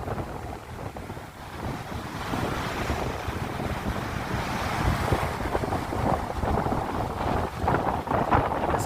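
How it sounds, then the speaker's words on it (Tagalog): Strong wind roars steadily across the microphone while big waves crash and surge underneath at the shore by beached fishing boats, a dense, continuous rush of noise. "Ang lakas ng hangin tapos ang lakas ng alon."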